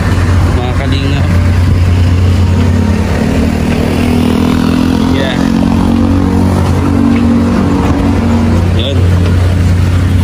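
A vehicle engine hums steadily and fairly loud throughout as passengers climb aboard and ride off, with people talking over it.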